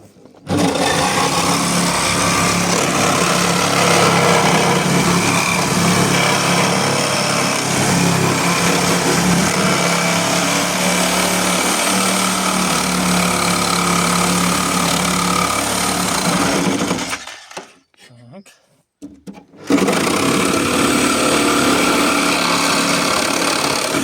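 A reciprocating saw cuts metal with a bent blade, a loud continuous buzzing rasp holding steady for about seventeen seconds, breaking off into near silence, then roaring back at full strength to the end.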